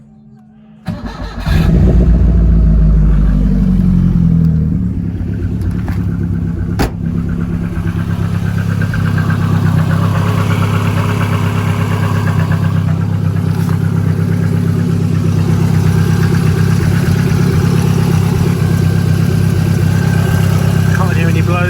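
An Austin Metro car engine starts and settles into a steady, loud idle that runs without a break, with no talk over it.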